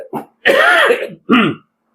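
A man coughs and clears his throat in three close bursts, loud and near, with a short rasping cough followed by two longer throaty clears and silence after.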